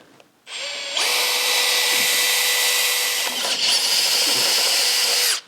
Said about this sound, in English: I can now drill the hole from the bottom side.